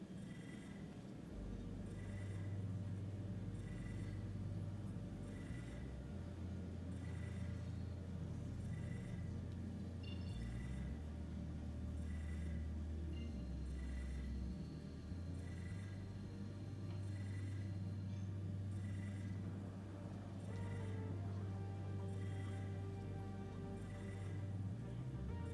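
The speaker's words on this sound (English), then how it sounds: "there's like a phone ringing inside my cockpit" A telephone rings inside a spaceship cockpit in Star Citizen, faint repeating rings at a steady rhythm over a constant low engine hum and rumble.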